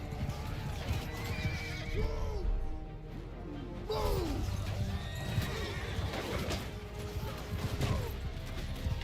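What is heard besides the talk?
horses neighing and galloping in video game Bannerlord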